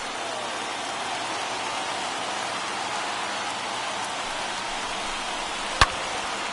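A crowd of over 39,000 on its feet at a Cubs at Dodgers MLB baseball game makes a dense, continuous roar, broken once by a single sharp crack near the end.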